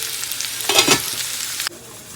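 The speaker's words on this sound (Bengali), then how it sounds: "এখন আমি মিষ্টি আলু ভাজা করে নিচ্ছি" Sweet potato slices fry in a hot pan, giving a close, crackling sizzle that swells into a brief louder burst midway and then settles back to a steady hiss, with no talking.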